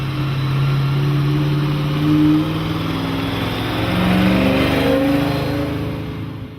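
A 1969 Maserati Ghibli 5000 SS with a 335-horsepower 4.9-liter V8 and dry-sump lubrication runs steadily nearby, its deep engine note swelling into two brief revs without any talking.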